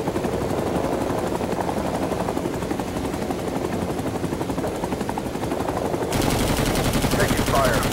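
Rapid gunfire crackles in the Vietnam-era shooter Rising Storm 2: Vietnam, sounding from a Huey helicopter over its loud, steady rotor and engine drone, with bursts continuing throughout and growing louder and harsher near the end.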